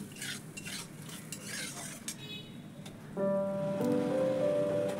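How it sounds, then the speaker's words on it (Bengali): Mixed spices and fried green chillies are stirred and sautéed in a pan for an eggplant and hilsa curry: close scraping spatula strokes, then a steadier sizzle with faint music underneath. "এইবারে মশলা সব রকম একসাথে দিয়ে ভালো করে কষে নিচ্ছি"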